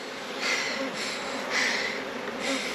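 Honey bees in an opened beehive being worked with a smoker hum in a steady mid-pitched buzz, swelling in soft pulses with breathy puffs, close and continuous without talk.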